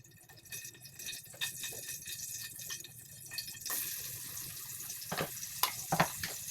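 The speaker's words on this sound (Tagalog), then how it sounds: "Ilalagay na natin dyan yung sibuyas" Chopped onions drop into hot cooking oil in a home kitchen, and a sizzle bursts up partway through, then crackles steadily with a few sharper pops over a quieter background of faint clinks.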